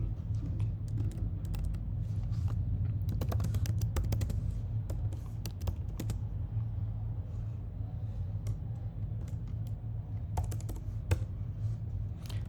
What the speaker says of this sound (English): just typing this text